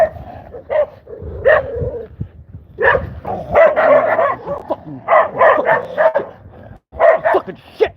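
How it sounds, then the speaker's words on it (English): Angry dogs bark in loud, close, repeated bursts on a historic Baltimore street, with short pauses between volleys and a quick final flurry. "Got some dogs that are angry."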